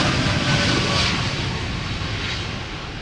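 An Air Canada Boeing 787 Dreamliner takes off at Amsterdam Schiphol Airport, its jet engines giving a loud, steady, broadband roar that fills the whole span and fades only slightly toward the end.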